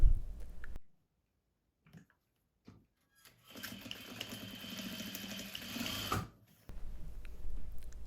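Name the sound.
sewing machine sewing placket hem corners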